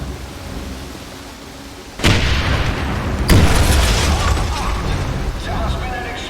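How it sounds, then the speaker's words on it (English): A loud explosion erupts in the 2009 Wolfenstein video game, a sudden heavy boom followed by a second blast and a long rumbling, crackling tail of debris and noise. "There has been an explosion in Block"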